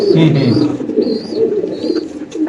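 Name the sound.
pigeons cooing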